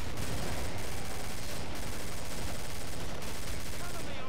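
Rapid, sustained minigun fire from Killing Floor, a dense unbroken roar of automatic gunfire lasting several seconds with brief dips, loud and close.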